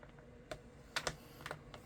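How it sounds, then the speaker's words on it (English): Paper cardstock being scored at the 2 inch mark on a scoring board: a quiet series of short, crisp clicks and scrapes, spaced irregularly and close up, with no talking. "I can line it up at the cut line, and I'm going to score."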